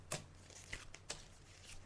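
A psychic shuffling and laying out cards, giving soft, close card snaps and slides in a few quick strokes, faint and without talk.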